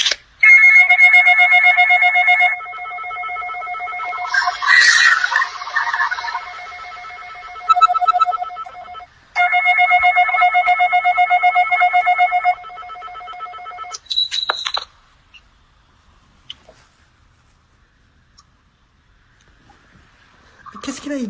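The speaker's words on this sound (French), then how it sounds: "Sonne encore, t'arrêtes pas." A telephone rings loudly and steadily in long electronic trills, cutting off and starting again several times. Brief voices come in between the rings, and then a quiet stretch follows.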